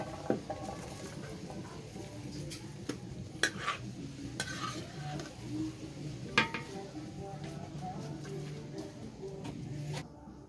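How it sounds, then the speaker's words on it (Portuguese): Soft scraping and stirring as cooked corn is transferred into another pot, with occasional utensil clinks and light patter, fairly close, scattered irregularly throughout. "agora eu vou transferir para outra panela"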